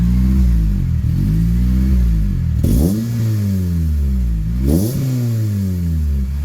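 Honda Civic EP3 Type R with a newly fitted engine revving loudly nearby, climbing through several strong revs with sharp blips between, and no talking.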